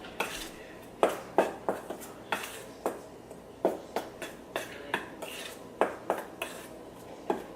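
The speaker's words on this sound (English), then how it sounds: "So I gotta mix all my dry ingredients together" Dry ingredients for a strawberry pound cake are mixed in a bowl, a utensil clinking against the sides in quick, regular strokes, close but fairly quiet.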